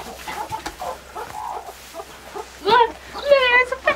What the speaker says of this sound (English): Look, there's a fat chicken.